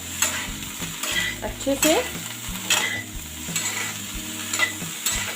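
A spoon stirs spices into a cabbage and potato curry in a pan, with repeated scraping strokes and clatter over a steady sizzle, loud and close. Someone says a brief word.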